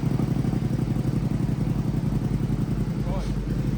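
Modified 2026 Ducati Hypermotard V2 SP motorcycle engine running steadily on a dyno, a loud continuous low rumble with rapid pulsing throughout; people talk over it.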